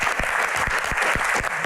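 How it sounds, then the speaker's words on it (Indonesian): Audience applause during a concert Q&A session, a dense, continuous wash of clapping with a few louder claps punching through at irregular intervals, no talk. "Tepuk tangan sekali lagi teman-teman."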